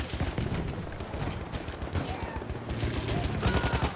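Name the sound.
gunfire from another player's gun in a video game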